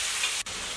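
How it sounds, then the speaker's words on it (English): Tindora vegetables fry in a cast iron pan over a medium flame, giving a steady, close, hissing sizzle with a brief dip in the middle. "We have used a cast iron pan and we are just going to cook this on a medium flame right now."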